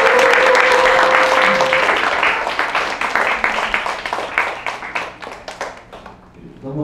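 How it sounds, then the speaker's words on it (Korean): Loud applause from guests at a small party, starting as a dense burst of clapping, then thinning into scattered individual claps that fade out near the end. "큰 박수 한번 보내주시고요"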